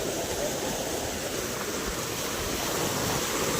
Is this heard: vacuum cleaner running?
no